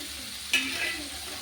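Tomatoes and onions, cooked down for a gangavalli roti pachadi chutney, sizzle in a pan as a spoon stirs them, with one sharp scrape over a steady close frying hiss.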